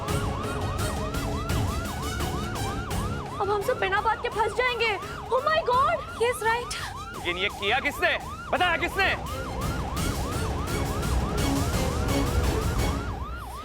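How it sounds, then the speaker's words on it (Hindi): A police car siren wails outside a house party, its cycling tone repeating steadily and loudly throughout while people inside talk anxiously over it. "ये तो पुलिस गाड़ी की आवाज है"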